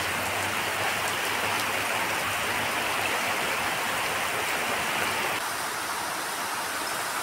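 Heavy rain pours down steadily outdoors in a dense, continuous hiss of drops on surfaces, loud and unbroken throughout with no voices.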